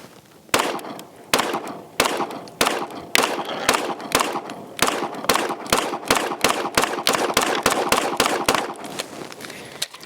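An H&K VP9L pistol emptying the rest of its magazine outdoors, about twenty sharp, loud shots in a steady rhythm that quickens toward the end.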